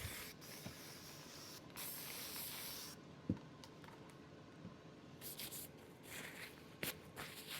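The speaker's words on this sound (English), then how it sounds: "I just sprayed alcohol." Alcohol is sprayed onto resin coasters in short, faint hissing bursts, interspersed with quiet handling noises and a couple of small knocks.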